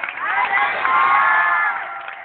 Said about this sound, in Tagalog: Lahat nga ng pumapalakpak, sumigaw ng hallelujah!